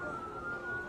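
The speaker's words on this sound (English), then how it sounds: "air raid sirens, you can beginning to hear them" An air raid siren wails over Tel Aviv as a steady sustained tone, faint and distant, during a brief moment.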